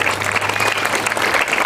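Warm round of applause from an audience at an elementary school dedication and ribbon-cutting ceremony, steady and fairly close for its short duration.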